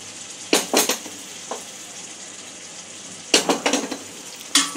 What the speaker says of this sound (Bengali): এখানে যে পেঁয়াজ ক্যাপসিকাম ভেজে রেখেছিলাম সেটা দিয়ে দেবো।